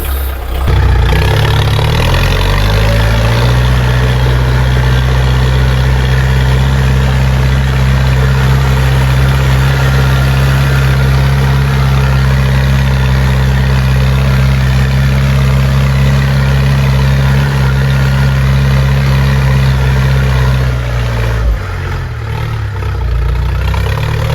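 A loud, heavy tractor engine, a Scout 404 pulling a plough through garden soil, runs steadily at a constant low rumble close by for the whole stretch, then eases off near the end.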